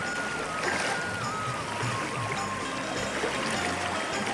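Someone wading across a rocky village river after a flood, water rushing and splashing steadily around the legs amid broad, constant stream noise, with no talk.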